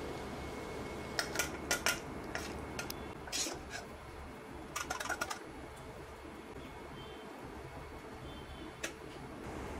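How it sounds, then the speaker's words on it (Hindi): A spoon scrapes and clinks against a metal pan and plate while village-style bombil and onion chutney is dished out, with several bright metallic taps over a quiet kitchen background and no talking. "इसे डिश आउट कर लेते हैं।"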